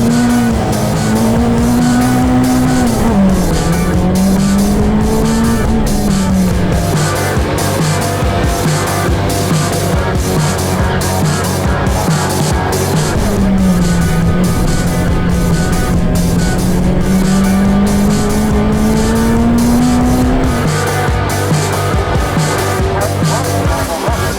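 Race cars in a racing video game roar off the start line, engines loud and continuous with rising and falling revs and shifting pitch across the field, a dense near wall of motor noise throughout.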